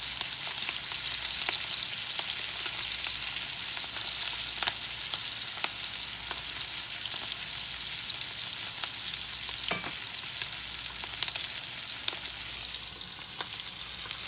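Potatoes fry in a pan with peppers and onions, a dense, steady sizzle and crackle running close and continuous, with scattered sharper pops and no voices.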